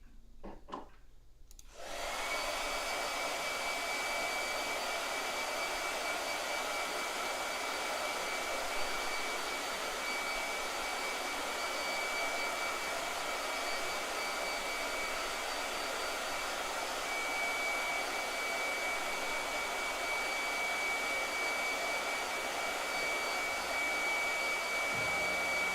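A blow dryer switches on after a brief quiet moment and runs steadily for over twenty seconds, a loud, constant whooshing roar with a faint high whine and no talk.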